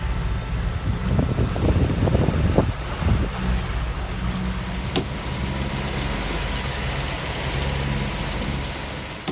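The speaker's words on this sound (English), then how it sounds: "we got 43 knots of wind from nowhere" Strong 43-knot wind blasting over a sailboat at sea, a loud, continuous roar buffeting the microphone with heavy gusty rumble early on, then a steadier rushing drone.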